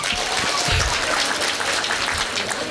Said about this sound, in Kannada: ಹಾಗೆ ಇದಕ್ಕೊಂದು ಜೋರಾದ ಚಪ್ಪಾಳೆ ಬರಬೇಕು.